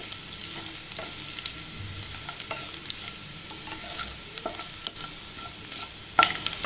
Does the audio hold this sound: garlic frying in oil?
yes